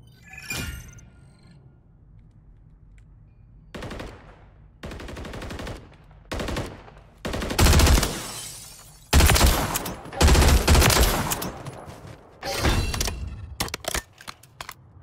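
Bursts of video game gunfire from a weapon fitted with the Jak Atlas conversion kit, loud rapid volleys separated by short pauses, growing denser and more frequent toward the end, with no talking.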